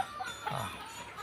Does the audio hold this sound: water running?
no